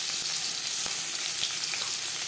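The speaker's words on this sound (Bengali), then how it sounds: "দিয়ে দেবো পেঁয়াজ কুচি" Chopped onion hits hot oil in a kadai already used for frying okra, giving a loud, continuous close-up sizzle with a couple of faint knocks, no voices.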